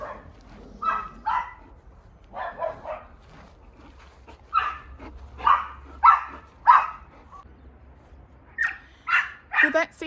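A dog barks in short bursts, several yaps and whimpery barks spaced irregularly, close by, with a person talking to it between barks.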